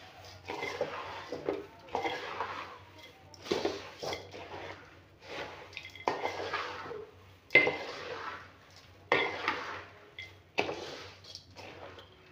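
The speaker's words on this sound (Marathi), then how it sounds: "तर हे मुरमुरे पूर्ण इथे घालायचे आणि पटापट छान मिक्स करून घ्यायचं." Puffed rice is stirred into jaggery in a pan for murmura ladoo, making a series of rhythmic scraping and rustling strokes, roughly one every second, with soft clinks of the utensil against the pan.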